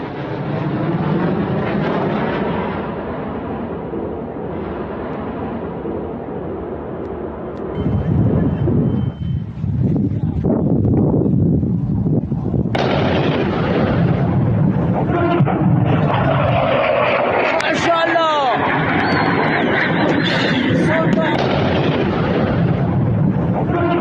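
A US F-18 fighter jet struck by a missile: a sustained, loud jet roar mixed with buffeting wind noise, its intensity shifting and swelling partway through.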